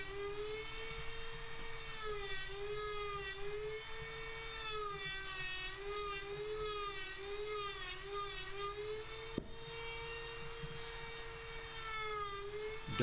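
A high-pitched rotary carving tool whines steadily, its pitch wavering slightly as it cuts deep into birch wood, continuous and close throughout.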